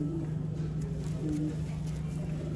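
Soft, low pigeon coos repeat a few times over a steady background hum, fairly close.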